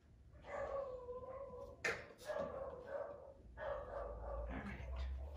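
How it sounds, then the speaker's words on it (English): A dog barks and yips repeatedly nearby, with sustained, whining bark-howls broken by a few sharper yelps at moderate volume and no talking. "Yeah, she barks all the time."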